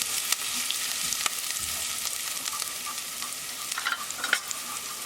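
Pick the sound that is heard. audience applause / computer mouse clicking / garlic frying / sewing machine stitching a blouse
garlic frying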